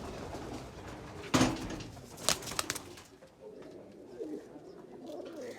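Piplan-wale pigeons, a fancy pigeon breed kept by a fancier, coo softly among sharp bursts of wing flaps or handling noise, in a quiet setting.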